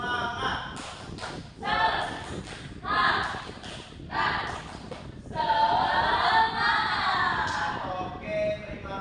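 Primary school class doing a rhythmic spirit clap chant, bursts of group clapping and chanted voices in repeated phrases, fairly near and steady across the room.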